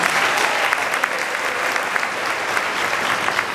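An audience at a World Bank address gives loud, continuous applause, a dense even wash of clapping lasting a few seconds with no voices standing out.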